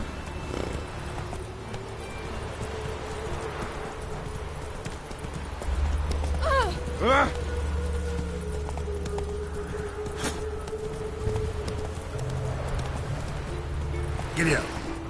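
Geralt's horse Roach gallops in The Witcher 3, rhythmic hoofbeat clip-clop running steadily throughout over game music, with a couple of brief whinny-like calls in the middle.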